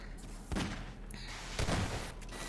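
Half-Life 2: Deathmatch gunfire in a 2v2 match, two heavy thumping shots about a second apart within a dense, noisy game mix.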